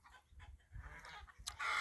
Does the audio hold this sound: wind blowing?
no